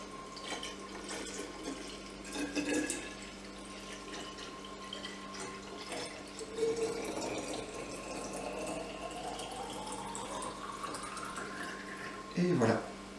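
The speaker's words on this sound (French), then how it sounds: "Et ensuite je mets mon eau que j'ai laissé décanter au moins 24 heures." Decanted water pours into a bottle holding fruit for flavoured water, a steady close trickle and gurgle lasting throughout as the pitch slowly rises while the bottle fills.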